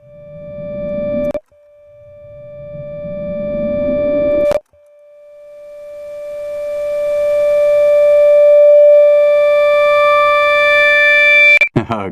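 Serum 2 synth patch of pink noise with a peaked filter swept by an LFO, loud swelling whooshes that repeat and lengthen, with a steady bright tone held throughout.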